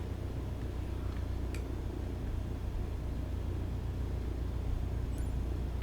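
Aircraft engine held at taxi power, around 1,000 RPM, in Microsoft Flight Simulator: a steady, low, droning rumble that stays even throughout with no clear change in pitch.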